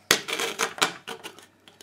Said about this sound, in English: It's safer and easier, really, to get a scissors inside the can.